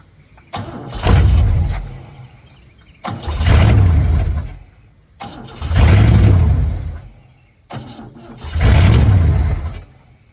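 A 1959 Cadillac barn-find engine cranks and catches four times in a row, each attempt a loud, rough roar that runs for about a second or more and then dies away, with short quiet gaps between the tries.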